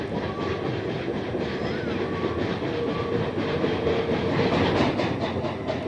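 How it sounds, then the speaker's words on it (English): A Santa Fe steam train leaving the Los Angeles terminal tracks in 1955, rolling over Macy Street interlockings with a steady, continuous rumble and rhythmic clickety-clack of wheels, close and loud throughout. "The train crosses over Macy Street as it leaves the terminal tracks, picking its way through the interlockings controlled by Terminal Tower"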